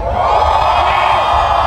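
At the RakRakan rock festival, a dense live crowd shouts and cheers loudly all at once, a sustained roaring wall of voices with whoops rising above it.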